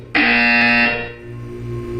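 A Portal 2 game buzzer sounds once, a loud sustained electronic tone lasting about a second before cutting off into a low background hum.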